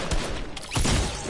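A burst of gunfire in a Fortnite match lands as a headshot, with a few sharp, close shots cracking in quick succession over a busy, noisy game mix.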